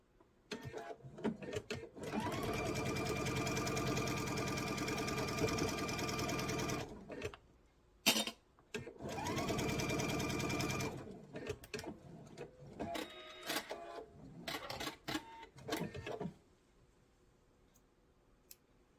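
A sewing machine stitches a quarter-inch seam on fabric for a lavender table runner, running in two long steady whirring bursts separated by clicks and handling noises, close and alone.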